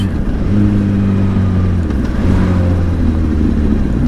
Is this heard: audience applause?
no